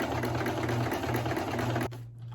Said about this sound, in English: and then start your sewing again.